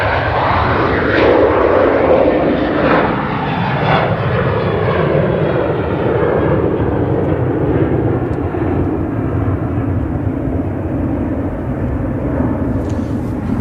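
A fixed-wing airplane at Manchester Airport roars loud and steady, its engine noise slowly fading and thinning over several seconds with no talk.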